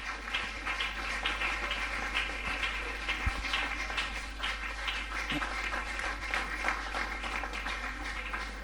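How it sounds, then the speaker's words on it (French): Applause from the audience at a general assembly as a delegation is welcomed, a sustained patter of many hands clapping at moderate distance, faint, with a few louder knocks mixed in. "Sous vos acclamations."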